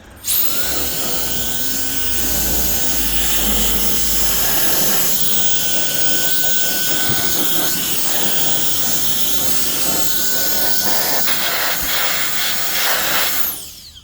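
SolarEye Ultra Turbine electric air duster blowing dust out of an old computer, a loud, steady high-pitched whooshing whine that runs unbroken for about fourteen seconds before cutting off.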